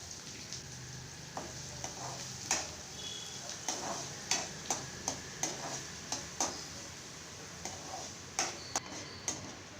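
Chopped onions sauté in hot oil with fried curry leaves for a tomato thokku: a steady close sizzle and hiss, punctuated by regular sharp ticks of a spoon stirring against the pan, with no talking.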